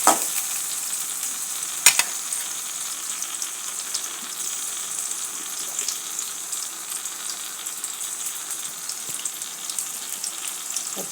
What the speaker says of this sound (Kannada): ಚೆನ್ನಾಗಿ ಫ್ರೈ ಆಗಲಿ. ಈಗ 4 ಮೆಣಸಿನ್ಕಾಯಿ, ಉದ್ದಗೆ ಹೆಚ್ಚಿದ ಮೆಣಸಿನ್ಕಾಯಿ ಹಾಕೋದು.